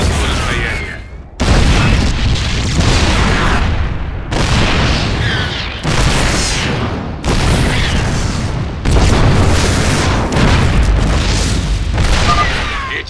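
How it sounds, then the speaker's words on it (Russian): Siege tanks in a video game firing in siege mode, a long run of heavy booming blasts, each followed by a rumbling decay, loud and close, with speech in the background. "Эти осадные танки работают по старому принципу. В режиме осады бьют дальше и мощнее."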